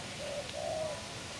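A pigeon coos twice in soft, low, rounded notes, the second longer and rolling, close by against a steady hiss of outdoor background noise.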